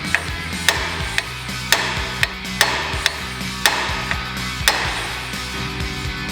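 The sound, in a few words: hammer rap breaking a steering knuckle taper free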